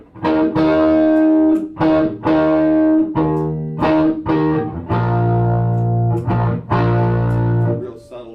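Electric guitar played through a Quilter Tone Block 200 amp head with distortion, loud chords struck in a series of sustained, ringing hits with crunchy saturated tone and decay between strums, no talking.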